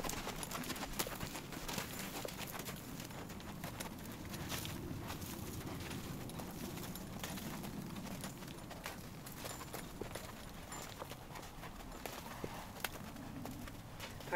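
A horse walks at a steady pace, its hooves clip-clopping in an even rhythm over a constant, fairly faint outdoor background, with no voices.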